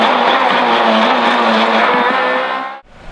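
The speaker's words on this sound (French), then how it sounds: "Bon Ludo, on est en essai pour le rallye Lyon-Charbonnières, premier tour de roue avec la Fiesta S2000." A Ford Fiesta S2000 rally car on a test stage for the Rallye Lyon-Charbonnières revs hard and loud close by, a bright sustained engine howl that then cuts off abruptly near the end.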